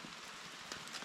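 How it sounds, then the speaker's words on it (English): Rain falling outside a bushcraft camp shelter near Savage River, a steady faint hiss with soft patters of drops, nobody talking. "It also started raining and it's still raining right now."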